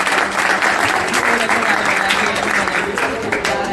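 Children and audience clap together at an annual coaching-school event, a loud, continuous burst of applause held at close range with some voices mixed underneath.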